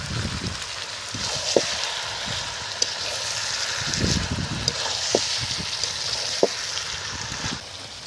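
Rooster meat sizzles steadily in a pan with ginger paste while it is stirred, a constant close frying hiss broken by sharp scrapes and clinks of the spoon.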